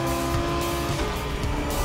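A Lamborghini Huracan Performante races in the video game The Crew Motorfest, its engine roaring loud and close with tire squeal throughout.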